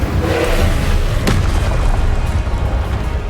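An Incendio fire spell cast in Hogwarts Legacy lands as a single loud burst with a sharp crackle, set against a dense, roaring wash of fiery, rumbling game sound that fills the whole moment.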